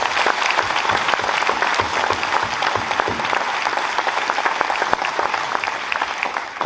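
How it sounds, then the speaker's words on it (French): Sustained audience applause for young racing drivers at a corporate event, a dense, loud, continuous patter of many hands clapping at steady intensity from start to finish, with no talking. "On peut les applaudir"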